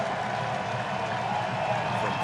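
Baseball crowd at an Angels vs Athletics game cheering for Pinder of Oakland, a steady broad roar of many voices and scattered applause that holds level throughout without a break.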